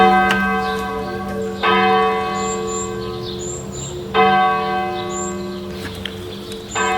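Heavy church bells in Suffolk, among the heaviest in England at up to 4.5 tons, ring by hand with long sustained tones; fresh strikes land at intervals over the continuing hum, with faint birdsong above.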